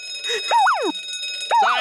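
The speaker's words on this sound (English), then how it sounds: "Silent alarm activated." An electronic alarm tone sounds twice in a TV science-fiction scene: close, loud rising-and-falling warbling sweeps with a short gap between them.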